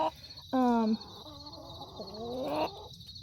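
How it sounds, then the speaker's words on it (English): Chickens squawk and cluck nearby, a loud drawn-out call followed by softer, wavering cackles over a quiet outdoor background. "I just let the chickens out this morning, so you can hear them squawking pretty loud probably"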